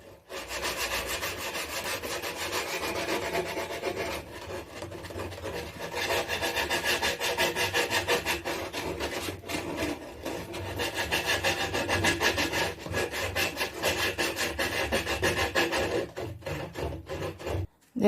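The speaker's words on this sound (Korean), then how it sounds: "그리고 150방 사포를 이렇게 동그랗게 말아서" Steady back-and-forth rasping of rolled 150-grit sandpaper smoothing a carved heart shape in wood, rhythmic strokes continuing close up for the whole stretch with brief pauses.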